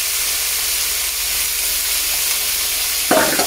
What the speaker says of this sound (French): Le but, c'est vraiment de saisir la viande.